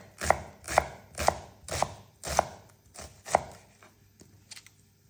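A knife chops vegetables on a cutting board for a ragu: seven crisp, evenly spaced strikes that fade into lighter taps near the end, heard close and alone with no talking.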